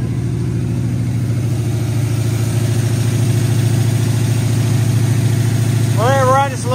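An Oldsmobile engine, freshly fitted with a new top end and run without its coolant hooked up, idles loud and steady up close, with a brief voice breaking in near the end.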